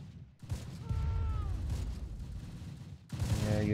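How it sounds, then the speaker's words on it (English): Gunfire crackles in the Close Combat video game, dense overlapping shots and booms rolling on for a couple of seconds, a short lull, then another loud burst near the end. "you're taking fire from the gun"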